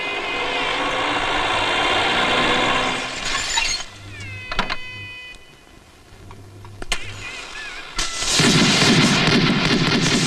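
Celebratory gunshots fired as a welcome ring out as a few sharp isolated bangs, spaced seconds apart, set among louder sustained noise and tonal sound, ending in a loud dense burst.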